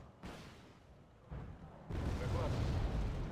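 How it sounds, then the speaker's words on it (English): Mortar fire in a war video game, a few heavy muffled booms, each followed by a sustained rumble that grows louder toward the end, heard alone without speech. "Get the mortar ready."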